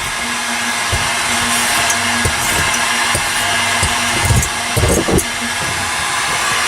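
A heat gun blows steadily and loudly while sound deadener is warmed for installation, with a constant airy whir and several soft thumps and crinkles from handling the material.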